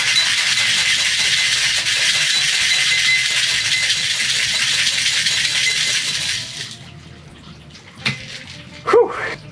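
Cocktail shaken hard in a shaking tin with pebble ice for a coffee Mai Tai: a loud, dense, continuous rattle of ice for about six seconds, then it stops, followed by a few faint clinks and a brief breathy exhale.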